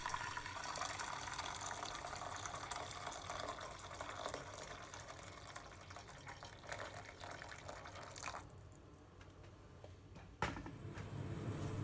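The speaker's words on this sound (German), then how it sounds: "Ich fülle den Topf mit heißem Wasser." Hot tap water runs into a cooking pot in a kitchen, a continuous splashing hiss that changes as the pot fills, then stops abruptly; it is faint and heard alone.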